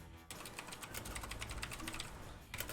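A loud computer keyboard clatters in rapid, continuous typing, close up and steady, with a short pause before keystrokes resume at the end.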